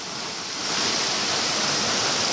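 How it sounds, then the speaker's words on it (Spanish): The La Alemana waterfall near Villacarmelo, Cali, roars as a steady, dense rush of falling water, swelling a little louder after the first half second and continuing unbroken without speech. "en este momento están viendo la cascada"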